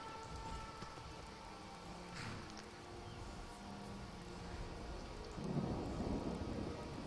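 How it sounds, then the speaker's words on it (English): A video game thunderstorm rumbles with steady rain falling on surfaces, a low thunder roll swelling near the end over the continuous hiss of rain. "Oh, it's a thunderstorm, too."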